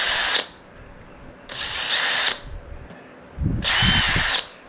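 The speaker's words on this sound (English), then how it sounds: "I run the 7/64 bit through just to get the propolis out." A power drill runs a 7/64 drill bit through a hole packed with propolis, in three loud bursts of whining with short pauses between, a faint low thump under the last burst.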